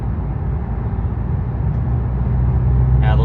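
A BMW G20 330e with catless downpipe, catback exhaust and Stage 1 tune makes a low, steady engine rumble under light throttle, running continuously beneath road noise, with no talking.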